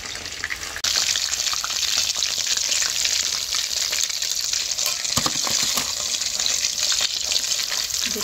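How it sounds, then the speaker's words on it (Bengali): Chicken pieces deep frying in oil make a bright, steady sizzle that surges suddenly as frying starts, then bubbles and crackles evenly with a few clinks, with no talk. "আমরা এখানে মাংসগুলোকে হালকাভাবে ভেজে তুলে নিচ্ছি"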